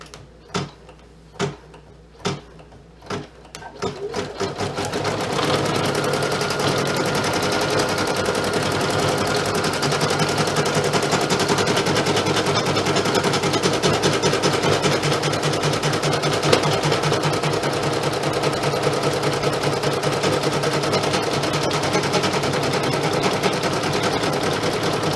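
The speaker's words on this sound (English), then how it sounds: "I'm going to go ahead and kick off this final embroidery." An embroidery machine stitches plush fabric for 3D eyelashes, starting with a few spaced mechanical clacks before settling into a loud, rapid, continuous rhythmic chatter of needle strokes that runs steadily to the end.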